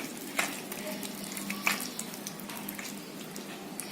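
Cumin powder and chicken masala stirred together in a pan: faint, continuous scraping and sizzling with a couple of soft clicks from the spoon.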